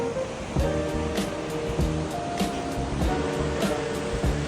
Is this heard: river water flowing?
yes